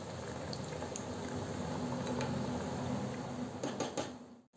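Green garlic vadas made with rice flour deep-fry in hot oil, giving a steady, dense sizzle and bubbling hiss that stays close and continuous, with a few light clinks near the end before it cuts off.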